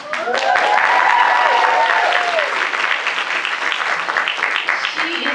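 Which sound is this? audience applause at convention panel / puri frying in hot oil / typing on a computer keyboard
audience applause at convention panel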